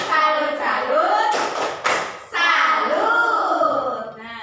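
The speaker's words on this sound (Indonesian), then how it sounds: "Coba sekarang yuk tepuk salut dulu biar kompak." Classroom children chanting the Indonesian 'tepuk salut' clapping game, voices singing the rhythmic chant with a few sharp claps and thumps breaking in between the sung phrases.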